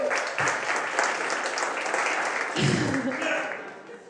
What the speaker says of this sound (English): The saddest the saddest applause.